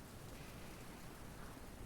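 Steady, soft rainfall in the game Book of Hours, a continuous even hiss of drops with no other sounds.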